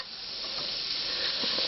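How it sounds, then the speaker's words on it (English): A small model steam engine hisses steam from its heated boiler, a continuous close, even rushing hiss that holds steady throughout with faint crackles underneath. "This thing will continue producing steam"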